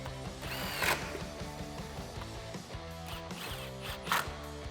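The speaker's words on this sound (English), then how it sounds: "Grab my socket, tighten them down." Socket wrench tightening the mounting bolts of black projector headlights on a 2009-2014 Ford F150, rapid ratchet clicks in repeated bursts close by.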